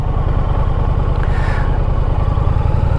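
A 2021 Indian Challenger motorcycle engine runs steadily on a test ride, a loud continuous low throb with rapid firing pulses and no pauses.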